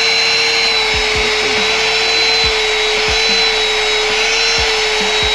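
A Ryobi vacuum cleaner runs steadily with a loud, constant whine and airy roar, punctuated by a few faint clicks and knocks, with no talking.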